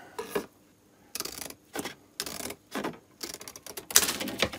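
Scissors or a blade cutting a sheet of Rulon bearing material for resurfacing a Myford lathe saddle, heard as a series of close, crisp rasping cuts in short bursts with pauses between, the last burst loudest.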